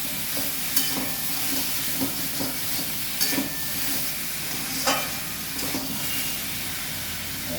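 Shrimp-oil masala sizzles and hisses steadily as it is sautéed in a pan, with occasional scraping stirs cutting through the constant frying noise.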